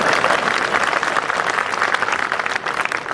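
An audience at a Hindi poetry recital in Sirsaganj claps together steadily, dense and sustained applause filling the hall for a few seconds.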